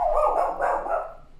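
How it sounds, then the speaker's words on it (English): A dog barks several times in quick succession at close range, loud and alone with no talking, as it reacts to people walking past the house. "He always barks when people walk by."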